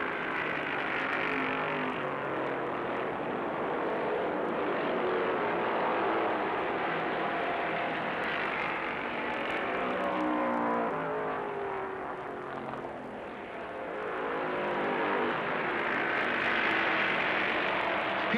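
A pack of stock cars roars around the track in a 1970s race featuring Petty and the Allisons, a dense sustained engine drone that swells and fades as the cars pass, heard from some distance.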